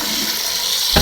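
Cold water runs steadily from a tap while washing rice, a close, continuous splashing hiss with a brief surge at the end.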